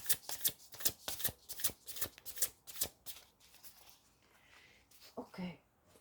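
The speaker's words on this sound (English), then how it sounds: "I'm going to be doing a few shufflings of the tarot first" Tarot cards being shuffled by hand, a close run of quick crisp riffles and flicks in rapid bursts, tapering into softer sliding and a few taps near the end.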